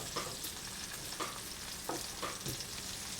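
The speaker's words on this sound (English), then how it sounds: "We want these large shrimp to cook about 2 to 3 minutes on each side." Large shrimp frying in a pan with garlic butter and lemon, a steady sizzle running throughout with a few soft scrapes as they are stirred or turned.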